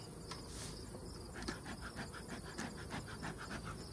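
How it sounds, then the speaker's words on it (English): Honeybees crowd and buzz around outdoor beehive boxes, a steady dense hum with faint ticking and tapping throughout. "The bees are piled up outside."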